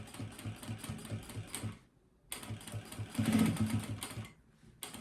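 Sewing machine stitching a straight seam on a makeup bag, a soft rapid mechanical chatter running in bursts with short pauses between them, fairly quiet and steady.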